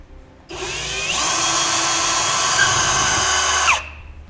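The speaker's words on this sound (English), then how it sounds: "we're going to come back with a 1/4 inch drill bit, and we're going to drill right into the center of our hole there" A power drill with a quarter-inch bit whirs loudly and steadily for about three seconds while drilling into a pickup truck bed, its pitch dipping slightly as the bit bites before it spins down.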